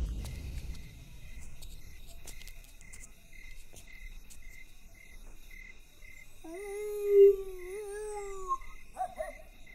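A man imitates a dog howling, a drawn-out wavering whine that rises and falls, heard over steady cricket chirping at night.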